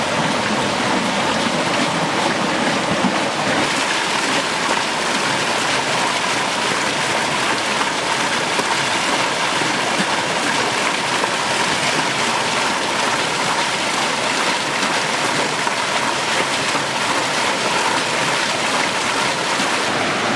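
Water rushing through the inlet of an old dam into the mill race feeding a waterwheel, a steady loud broadband roar and hiss of flowing water throughout, with no talk.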